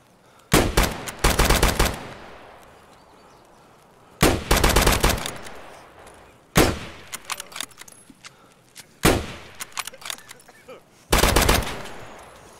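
Gunfire in the video game Escape from Tarkov: five loud, separate volleys of rapid shots, each burst ringing out and fading before the next, with near, sharp cracks throughout.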